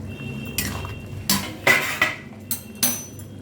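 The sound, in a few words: opening the lid of a cooking pan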